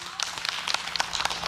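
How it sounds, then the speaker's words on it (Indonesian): An audience at an Islamic talk show gives Habib Syaugi a short burst of brisk, dense clapping, lively and fairly close throughout. "tepuk tangan buat Habib Syaugi"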